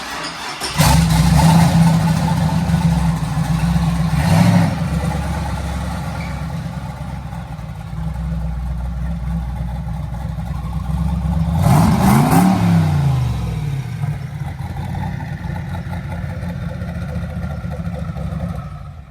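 A Chevrolet Impala wagon's engine idles loudly up close and revs hard twice, the second rev rising and falling sharply before settling back to a steady rumble.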